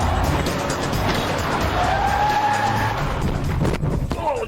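Cars in a game of car football skid and shunt into each other, tyres scrubbing and engines revving in a continuous loud scramble, with a sharp squeal and a knock near the end.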